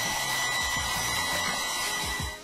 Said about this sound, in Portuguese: Agora a gente vai dar uma aceleradinha aqui na secagem com o secador.